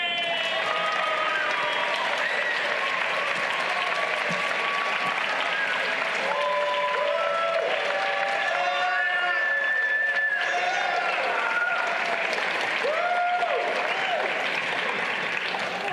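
Sustained audience applause fills a lecture hall as a speaker is welcomed, steady and dense for many seconds, with scattered voices and cheers mixed in.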